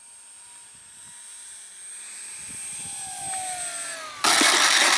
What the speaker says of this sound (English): We got a half flap landing going on.